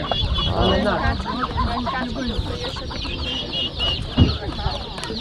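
Chickens cluck and squawk busily nearby, with a rooster's call mixed in, over a murmur of chatter and background voices at an outdoor livestock market in Łomża, Poland.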